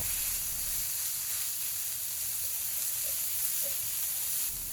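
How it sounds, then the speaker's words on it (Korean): Grated cabbage and mixed vegetables stir-fried in a pan, giving a steady, close sizzle with a soft hiss that holds evenly for the whole stretch, with no voices over it. "갈아놨던 양배추도 넣은 뒤에 맛있게 볶아줍니다."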